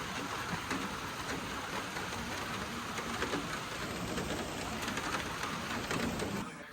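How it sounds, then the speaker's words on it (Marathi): Steady rain falls over a farm plot, a dense, even hiss lasting the whole stretch with no talk over it. "पाऊस पडायला बघा"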